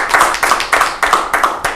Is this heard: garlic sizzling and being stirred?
no